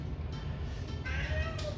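A cat indoors in a new apartment gives a brief, fairly faint meow with a rising then falling tone, heard alone over a low steady room hum.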